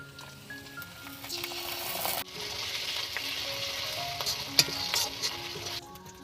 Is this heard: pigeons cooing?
no